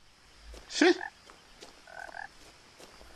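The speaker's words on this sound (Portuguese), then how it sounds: "Sapo." A frog croaks in the pond area of the video game What Remains of Edith Finch, one short burst followed by softer repeated calls, fairly quiet against a hushed background.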